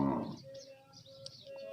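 A pure Nili buffalo gives one low, drawn-out moo close by, fading into quiet with faint bird chirps in the background.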